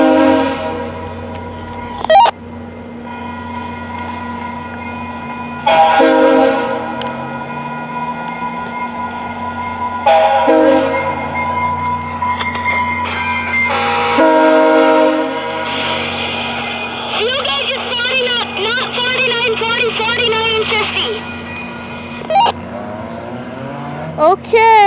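Rail engine in yard work near an activated crossing, a loud close diesel drone with repeated long horn blasts and crossing-bell ringing, the horn returning several times over the passage.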